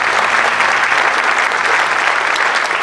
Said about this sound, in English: round of applause because you're invaluable to us